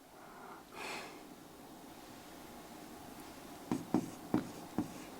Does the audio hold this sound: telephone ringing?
no